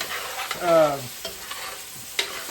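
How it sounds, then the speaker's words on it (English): A spoon stirs and scrapes the bottom of a pot of Cajun sauce piquant gravy with frozen vegetables while deglazing, giving a soft sizzle with a few scraping strokes and light clicks, close and fairly quiet. "And you'll also notice that I'm scraping the bottom of the pot. I'm deglazing it."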